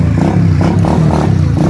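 A RUSI 400 Classic motorcycle engine runs steadily nearby, giving a loud, low rumble with a regular pulsing beat and no talk.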